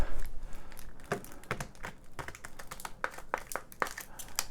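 Magic: The Gathering cards being shuffled, a rapid run of crisp riffling and tapping clicks, close and fairly loud, with no talking.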